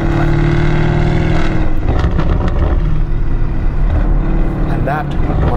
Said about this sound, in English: Now this car has got a custom race exhaust system